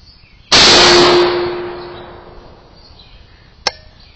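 A rifle shot strikes a steel armor target at range: one loud metallic clang that rings with a sustained tone and slowly fades, followed later by a brief faint click.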